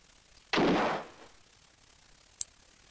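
Gunshot in Alone in the Dark, a single loud, sharp blast with a short decaying tail, followed by a brief faint click or tick about two seconds later.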